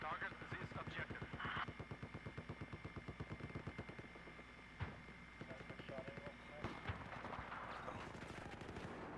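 Rapid automatic gunfire rattles in the video game Battlefield 4, with a long rhythmic burst of shots, then scattered single shots and short bursts, with players talking over the fire.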